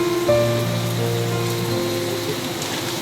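A sudden heavy downpour in Quezon City hisses on a surface, a dense, even wash of sound with a faint low hum underneath and no talking.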